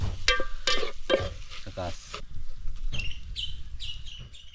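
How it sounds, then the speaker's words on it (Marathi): A bird calls near an outdoor home kitchen where mutton is cooked Konkan style, its repeated bright chirps heard over stirring and sizzling of masala in a pan, with occasional sounds of people. "इकडे कुठला तरी पक्षी आलाय आणि तो ओरडतोय"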